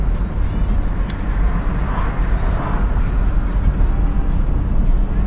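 A Ford Mustang convertible drives along a road in the morning, with a steady, broadband engine and road-noise rumble running continuously from start to finish at close range.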